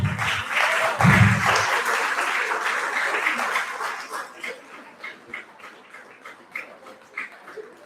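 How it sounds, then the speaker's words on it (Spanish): Audience at a fundraising gala clapping for a teacher, a dense burst of applause that thins into scattered, fading claps by the end, with a little voice and noise mixed in. "por favor, un aplauso a la maestra Sari"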